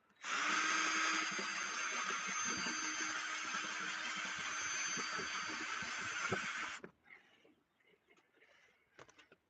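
A power drill bores a 3/8 inch hole for a cargo carrier mount, a loud, steady whine for about seven seconds that stops abruptly, followed by scattered faint taps and handling noise.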